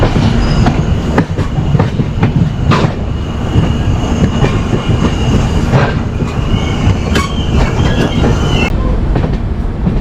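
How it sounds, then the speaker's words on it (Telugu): The Duronto Express 12286 runs on rails, heard from inside an old second AC coach. There is a loud, continuous rumble with rhythmic clickety-clack wheel beats and brief squealing. "ట్రైన్ మంచిగా నీట్గా ఫాస్ట్ వెళ్ళిపోతుంది"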